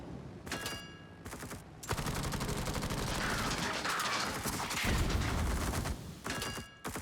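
Warship naval gunfire in the World of Warships video game while firing on a North Carolina battleship and cruisers: sustained dense rumbling salvos and booms, loud and continuous, with brief gaps early on.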